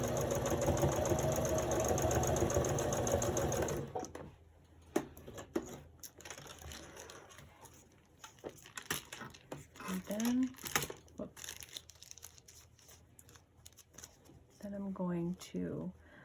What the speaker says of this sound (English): I'm just going to stitch along the lace part.